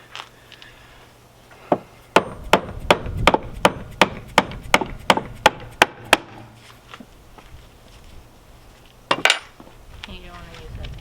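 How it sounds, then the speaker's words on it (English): A hammer strikes a boat's outboard engine during removal, a rapid run of about a dozen sharp metallic blows, then a few scattered knocks, up close with light background noise. "And now my hammer."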